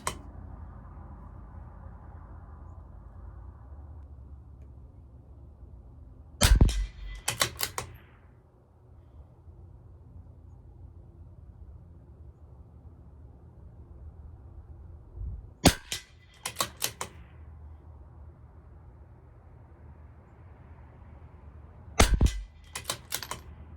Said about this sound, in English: We're just going to shoot, and it's looking great.